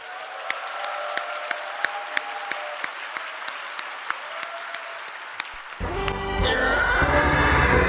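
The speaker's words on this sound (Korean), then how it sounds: "조성주 소장을 박수로" A studio audience welcomes guest Jo Seong-ju with sparse, evenly spaced claps for about six seconds before a louder, dense musical burst takes over.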